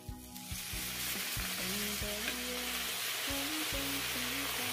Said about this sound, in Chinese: 接下来把我们调好的淀粉水给它均匀的浇到里面